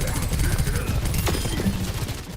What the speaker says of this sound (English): Similarly with SOJOURN, you can hear how zippy her primary fire is as she rails her enemies.